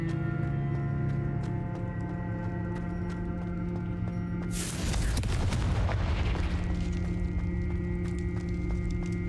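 Confringo fire spell cast in Hogwarts Legacy, a sudden loud blast that bursts out midway over a steady droning game soundscape, then rumbles down into a rough crackling tail.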